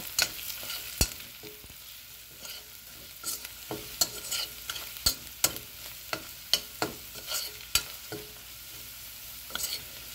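Asafoetida and fenugreek powder being stirred in a frying pan, a steady faint sizzle broken by repeated sharp scrapes and taps of the spoon against the pan throughout, with no talking.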